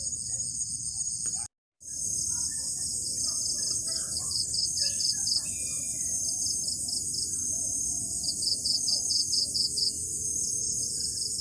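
Dense chorus of crickets and cicadas on a dark night in the Thai countryside, a steady loud high shrill buzz that cuts out for a moment, with faint scattered chirps and low rustling beneath.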